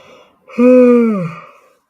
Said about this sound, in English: Small yawn.